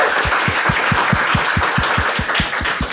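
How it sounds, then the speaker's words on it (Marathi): A stand-up comedy crowd claps for two people, a steady rhythmic run of about a dozen even, unison handclaps over a low hall murmur. "एकदा टाळ्या वाजवा दोघांसाठी"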